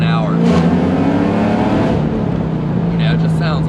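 Loud, close engine drone of a 2004 Lexus IS300 with a swapped LS2 V8, pulling in third gear at about 40 mph, a steady deep tone climbing slightly, with a person talking over it.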